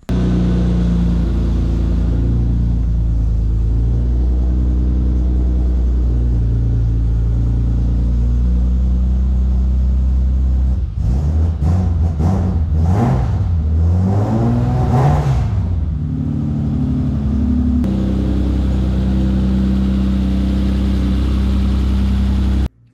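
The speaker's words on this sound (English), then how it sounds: "We got the car running." A BMW E30 idles on a Megasquirt-2 ECU with a steady close engine drone, then revs up in a few rising and falling bursts before settling back to idle and cutting off at the end.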